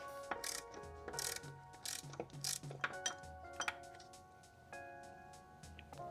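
Ratchet turning on an alternator bolt of a Mercedes W203 C-Class, giving quiet clicking and ratcheting bursts with metallic rings, close up but faint under a background hum.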